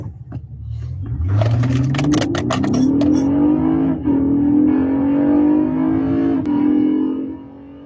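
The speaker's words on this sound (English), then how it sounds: "this one is a Honda V6, Honda Accord V6" A Honda Accord V6 engine starts with a rising whine and settles into a steady, loud idle hum, close up, with a few sharp clicks early on.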